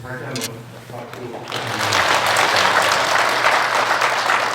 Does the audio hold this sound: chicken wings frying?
no